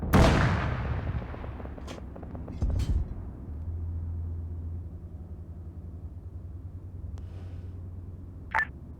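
A tank cannon booms once at the start with a long rumbling decay, followed by softer thuds and a low mechanical drone, with a later sharp crack near the end, in what sounds like a game.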